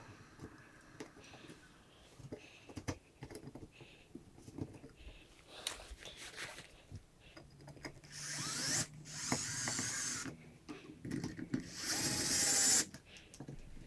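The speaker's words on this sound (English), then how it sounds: "So putting the same screws back in." A power driver sends screws back into a ceiling light fixture with a built-in fan against drywall, giving two short whirring bursts after quieter handling clicks and taps.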